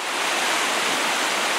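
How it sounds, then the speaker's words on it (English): Marble Creek's current rushes past in a steady, close, full-bodied hiss of flowing stream water, loud and unbroken throughout. "Marble Creek just a little ways into the stream, into the current."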